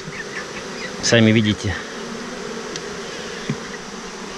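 Swarm of honey bees, a steady close buzzing hum of many insects filling the background while someone speaks briefly over it.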